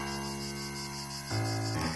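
A steady, dense buzzing insect song with layered tones, shifting pitch partway through, continuous and fairly close.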